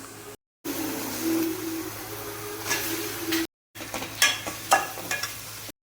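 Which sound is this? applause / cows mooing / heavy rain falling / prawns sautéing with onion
prawns sautéing with onion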